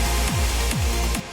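Short, loud, washy bursts repeat about every half second, each with a sweeping tail: a DJ reverb effect in Rekordbox switched on suddenly at full level.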